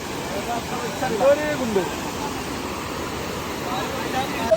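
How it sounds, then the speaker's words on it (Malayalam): A waterfall rushes in a steady, broad roar, close and continuous, with faint voices murmuring underneath. "ഏതോ ഒരു വെള്ളച്ചാട്ടം."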